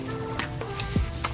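A tablespoon of sugar and half a teaspoon of oil being stirred together for a tropical punch lip scrub gives a short, gritty scraping and clicking, close and fairly soft, with no talking.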